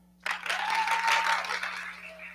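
A comedy-night crowd bursts into cued clapping, a sudden loud wash of many hands that stays full and even, then eases slightly toward the end.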